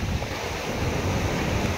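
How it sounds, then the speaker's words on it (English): Ocean breakers roll onto Puri Beach on the Indian Ocean, a loud, continuous roar of surf mixed with heavy wind buffeting the microphone, with no voices. "You guys can see the waves, the breakers coming right behind me."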